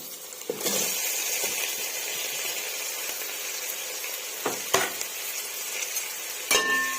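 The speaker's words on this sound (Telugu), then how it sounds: "ఇప్పుడు మనం కట్ చేసి పెట్టుకున్న 3 మీడియం సైజ్ టమోటాలను యాడ్ చేసుకుంటున్నాను." Three chopped medium tomatoes sizzling in a pan with fried ginger paste for chicken biryani, a steady hiss broken by a few sharp scrapes and clinks of a spoon stirring.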